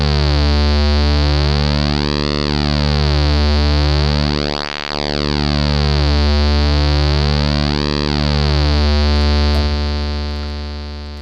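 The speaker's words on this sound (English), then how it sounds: "move the pulse width so you can get an idea of the timbres that you can get with it" A Softube modular synth pulse wave holds a steady, loud buzzing tone while its pulse width sweeps back and forth, the timbre hollowing and thickening in slow cycles, alone without talk.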